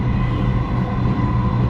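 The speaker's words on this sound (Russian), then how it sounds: "Поезда метро Дубая управляются автоматикой, то есть без машиниста ездят." A driverless, above-ground Dubai Metro train rumbles steadily from inside the carriage, a continuous low hum with no talking.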